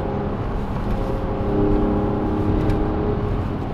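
A Mercedes-AMG E53 on a test drive on a slightly damp road at three degrees builds speed, its engine droning as a steady, loud hum heard from inside the car that rises gradually, with no talking.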